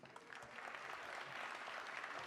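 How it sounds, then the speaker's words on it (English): Audience applause fills the hall at an opening ceremony as speakers walk to the stage, continuous, fairly distant clapping that swells slightly and stays steady, with no talk. "please join me in a round of applause as we speakers walk to the stage."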